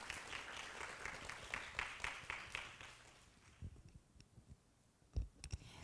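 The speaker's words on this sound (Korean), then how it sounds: "큰 박수 부탁드리겠습니다" A small audience at a startup forum claps for a few seconds, fairly quiet and distant, the applause thinning out and ending with a few scattered claps and clicks.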